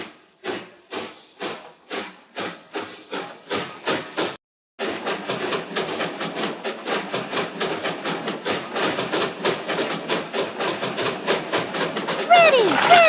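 A toy train in a children's railroad game sets off from its station with a steady run of rhythmic clacking beats, a brief pause, then quicker repeated clicks building up and ending in a brighter burst.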